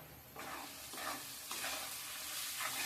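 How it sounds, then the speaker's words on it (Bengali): Chickpeas with salt and chili powder fry in a hot pan, giving a steady sizzle broken by periodic stirring scrapes, close and fairly quiet, with no talking. "এবারে নেড়ে চেড়ে ভেজে নেব"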